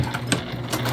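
A sewing machine whirs steadily up close, its needle mechanism clattering rapidly in a brief burst as the presser foot runs off the edge of the fabric.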